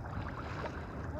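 A sailboat under sail on open water, with a soft, continuous rush of wind and water flowing past the hull, heard close and low for a brief moment.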